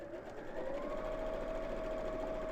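A sewing machine with a universal needle and standard foot stitches through thick fabric on a lengthened stitch, making a steady, even whir throughout, quiet and alone.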